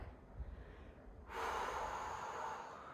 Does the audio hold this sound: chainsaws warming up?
no